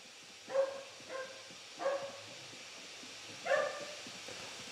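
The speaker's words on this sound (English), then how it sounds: "My doggy doesn't want to stop barking." A pet dog barks four times from across a room, short separate woofs with pauses between them over a faint steady background hum.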